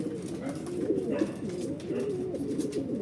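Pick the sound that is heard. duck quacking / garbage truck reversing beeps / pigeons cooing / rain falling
pigeons cooing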